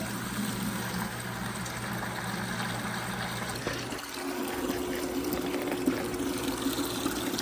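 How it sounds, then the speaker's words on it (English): A pump inside a water reservoir pushes water out into a bucket, a steady pouring stream over a low mechanical hum; the pitch of the filling shifts midway as the level rises, with no talk. "I have a switch and it's connected to a pump inside of our reservoir. So I'm just gonna pump some water out"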